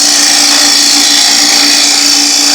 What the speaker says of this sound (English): This is just using the traditional bowl gouge, the traditional grind.